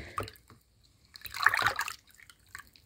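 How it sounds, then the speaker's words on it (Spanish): Homemade plant fertilizer ingredients are stirred in water, giving a few soft, brief sloshing and trickling swirls separated by quiet gaps. "Lo vamos a revolver para que se mezclen bien estos ingredientes con el agua"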